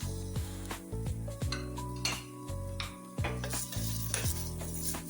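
A spoon stirs asafoetida and tomato into sizzling spices in a pan, scraping and clinking against the metal in repeated strokes over a constant frying hiss, close up with no talking.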